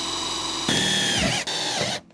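A power drill whirs steadily, then its pitch shifts and strains as it bites into a Sprinter van floor, briefly stopping before spinning again and cutting off.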